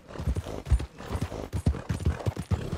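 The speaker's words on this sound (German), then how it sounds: "Kommt schon gut auf Speed, das Pferdchen." Horse hooves galloping at speed in the video game Red Dead Redemption 2, a steady rapid clip-clop rhythm of heavy low thuds, close and continuous across the whole stretch with no talk over it.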